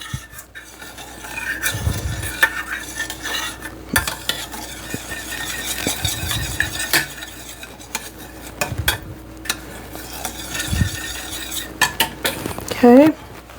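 Utensil stirring a thick mixture in a bowl for an Easter ham, close repeated scraping and clinking against the dish, with occasional knocks and a brief squeak near the end.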